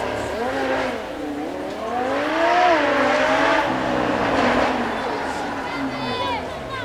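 A supercar at an outdoor supercar weekend passes at speed with a loud engine note that climbs and falls as it revs through the gears. Someone talks over it.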